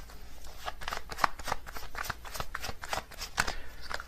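Tarot cards are shuffled by hand in quick, close, crisp riffling flutters with steady papery snaps, heard alone without speech.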